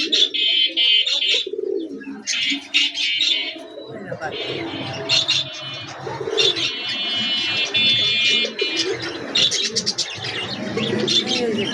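Pigeons coo and chirp in a Gazipur bird shop among other caged birds, a steady busy chorus running throughout with a person talking over it.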